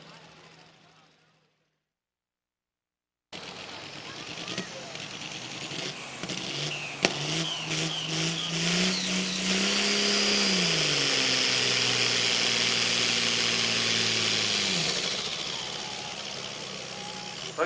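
A tractor engine at a truck and tractor pull drops out to silence, then roars back and revs hard, its pitch climbing and holding for several seconds before falling away, loud and close.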